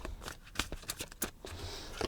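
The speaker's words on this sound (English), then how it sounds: "Let me just shuffle them a little more." Tarot cards being shuffled by hand, a run of quick papery riffles and soft slaps spread across about two seconds, close and fairly quiet with no talking.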